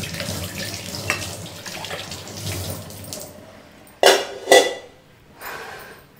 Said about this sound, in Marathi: भांडे घासून झाले, आता मस्तपैकी आराम करते.